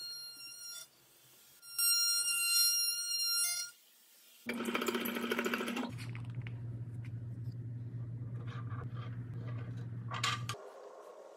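A router flush-trims the plywood lid of a cyclone dust collector bin, giving a loud whining roar after a few bursts of clattering, with a steady low hum under it until the cut stops near the end.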